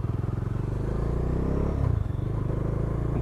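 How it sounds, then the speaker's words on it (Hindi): A 2020 Bajaj Dominar 400 BS6 motorcycle is ridden with a steady, throbbing engine drone and a brief clunk midway as a gear is shifted, all close and fairly loud. "सेकंड गियर में भी आवाज़ आई"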